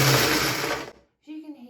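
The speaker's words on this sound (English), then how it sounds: "I put my cashew nuts into my blender. I put the lid on and put it on a low speed to blend." An electric blender runs on low speed, grinding cashew nuts into crumbs with a loud, dense whirring roar for about a second, then cuts off abruptly, leaving only fainter sounds afterward.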